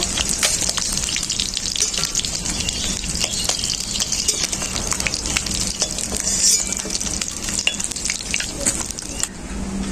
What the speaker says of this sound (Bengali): মাছটা আমার খুব ভালোভাবে ভাজা হয়ে গেছে